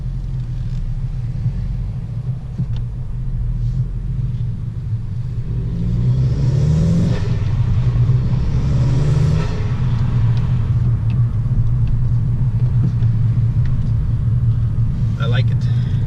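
A Honda Civic 1.5T turbo with an aftermarket intake revs up from inside the cabin, a low rumble that swells and rises in the middle before settling back, with brief whooshing intake noise.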